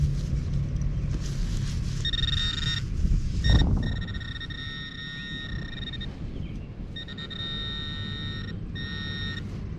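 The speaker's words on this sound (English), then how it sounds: "It was double beeping" A metal detector sweeping over a shallow buried copper penny gives repeated bright electronic beeps in short bursts, some closely paired, over a soft background hiss and a brief handling thump, with no voices.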